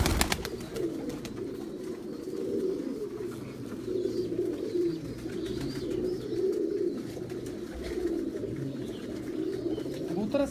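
Pigeons coo steadily on a rooftop loft, a continuous low murmur of overlapping calls from several birds at moderate distance, with no speech.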